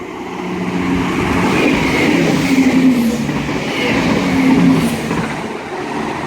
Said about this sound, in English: ready to pass through now is going to be another 170